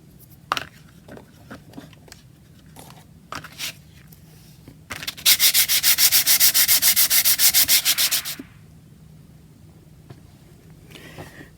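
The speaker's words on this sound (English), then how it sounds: "I'm going to sand it down lightly." A collage piece being lightly sanded by hand, a loud, steady run of rapid back-and-forth rasping strokes lasting a few seconds, preceded by scattered taps and handling noises with no talk.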